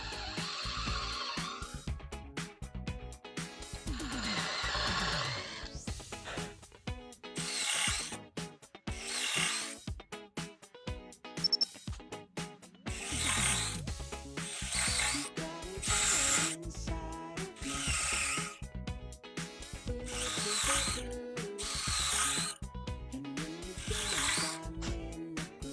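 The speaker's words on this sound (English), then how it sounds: "we're going to drill" Power drill boring dowel holes in wood for a blanket ladder, with repeated bursts of whirring and ratcheting as each hole is bored, near and loud, separated by brief pauses and handling clatter, no talking.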